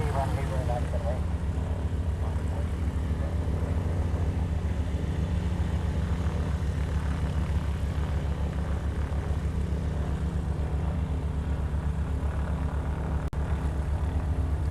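An Air Transport International cargo plane departs Honolulu after leaving the Hickam ramp, its engines making a steady, heavy roar that holds at an even loudness throughout.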